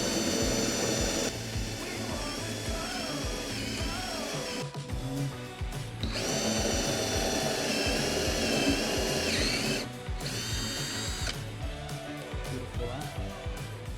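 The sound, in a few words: drill boring into wood for desk shelf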